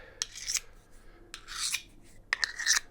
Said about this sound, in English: Run it backwards and forwards half a dozen times and that will remove the burr.